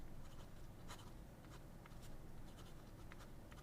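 A soft, flexible fountain pen nib writing on paper, giving faint, close scratchy strokes in an irregular rhythm.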